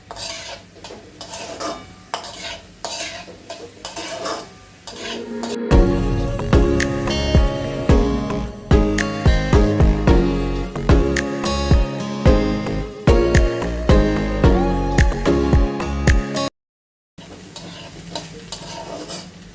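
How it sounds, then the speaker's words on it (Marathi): Four large onions sauté in oil in a pan for a chicken curry, with a soft sizzle at first and then loud, close, busy stirring and scraping of a utensil against the pan, cut by a brief silence near the end. "कांदा परतून घेऊ तेलात"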